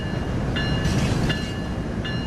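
Train rolling on rails in the game Train Sim World 3, a dense steady rumble of wheels and carriage noise with faint high tonal whines and periodic clicks, close and continuous without speech.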